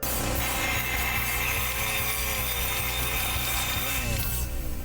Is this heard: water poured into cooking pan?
no